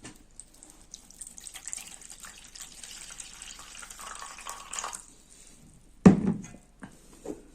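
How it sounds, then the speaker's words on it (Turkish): Water is poured steadily onto an empty plate for a kitchen experiment with spices and detergent. A soft continuous splashing hiss lasts about five seconds and is followed by a single sharp knock. "Suyumuzu döküyoruz."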